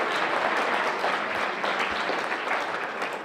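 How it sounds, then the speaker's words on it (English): Applause from the audience at a Rotary senior luncheon for the camera crew, a dense, steady clatter of many hands filling the room. "give them a round of applause"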